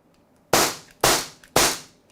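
Three sharp, loud shots from a Beretta Mod 84 FS airsoft pistol fired at an even half-second rhythm, each crack decaying quickly, with no talk around them.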